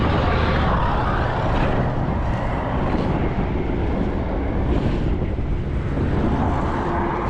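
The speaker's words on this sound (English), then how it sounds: "it's a lot windy" Strong wind blowing outdoors in a busy, noisy area, a loud continuous roar and buffeting with traffic rumble beneath, without voices.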